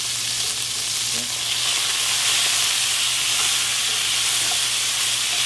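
Venison browns in a Le Creuset pan with a strong, even, close sizzle and hiss that runs steadily throughout with no voices.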